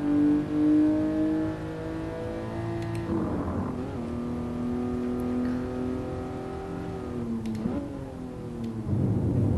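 A 1967 Toyota 2000GT engine in the Gran Turismo Sport racing game at the Nürburgring, a steady droning engine note with rising revs, sharp gear-change dips and re-climbs, loud and close, no talking.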